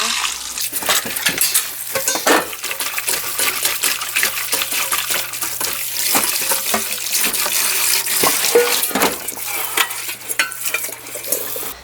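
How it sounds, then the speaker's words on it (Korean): Salted napa cabbage being rinsed for kimchi under running tap water, with steady splashing, sloshing and handling noises close up throughout, leaves rustling and water hitting a sink basin with no talking. "이거를 이제 헹궈 주겠습니다. 한 세 번만 헹궈 줘도 깨끗할 거예요."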